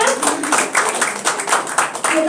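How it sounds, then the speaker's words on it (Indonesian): An audience at a PSI political party gathering claps together in a dense, rhythmic burst of close applause, with voices talking over it. "Kita tepuk tangan dulu semuanya."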